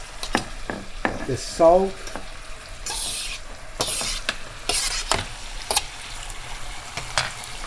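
Cooked eggplant is stirred into a pot with onions, giving intermittent scraping and stirring knocks over a soft sizzle, with a short spoken phrase near the start.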